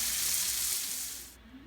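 Green beans sauté in oil on a stovetop over high heat, giving a steady loud sizzle that fades slightly toward the end with a faint stir sound.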